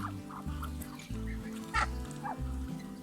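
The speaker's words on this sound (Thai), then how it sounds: "แล้วจะมีหนุ่มเป็ดเยอะมากเลยนะคะ" A flock of young male grey breeder ducks at close range: low rhythmic quacks and honks repeat steadily, mixed with occasional higher calls.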